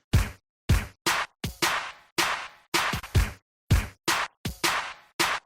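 A drum-rack beat built in a DAW: about fourteen punchy electronic hits and claps, each cut off sharply with a short noisy tail of feedback, in a choppy, uneven rhythm with clear gaps between them.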